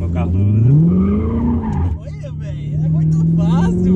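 A Corvette sweeps through a corner, its tires squealing in long rising and falling whines over a steady engine drone, recorded close up with people chatting throughout.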